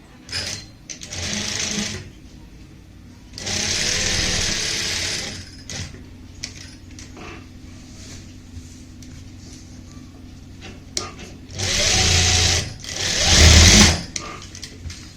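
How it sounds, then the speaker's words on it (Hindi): A sewing machine stitches lace onto a fabric V-neck in short whirring bursts separated by pauses, each run close and mechanical, the last one the loudest. "सेंटर में रखने के बाद हम यहाँ पे जो वी कट है सिंगल वी में सिलाई लगाएंगे"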